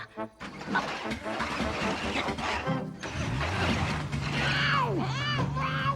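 An old vehicle's engine cranks with a mechanical ratcheting clatter, then catches and settles into a steady low running drone, close and fairly loud, with whistling tones on top in an animated setting.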